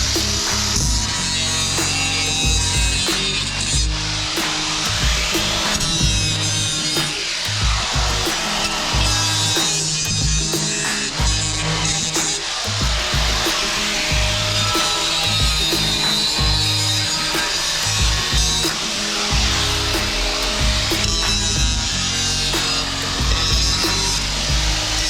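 A rough, repeated rasping scrape sounds as the end of a 4-inch drainage pipe is chamfered, with steady back-and-forth strokes, close and fairly loud, and no speech.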